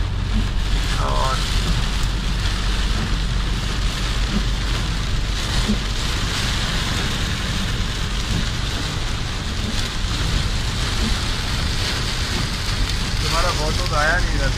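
Heavy, steady rain pours down during a storm in Jazan, Saudi Arabia, a dense continuous hiss that fills the whole stretch, with faint voices briefly audible in the background.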